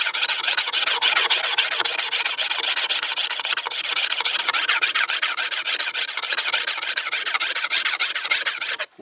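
A blade scrapes the outer coating off a length of bamboo for tinder shavings, a rapid, continuous series of close, raspy strokes in a steady rhythm, stopping abruptly at the end.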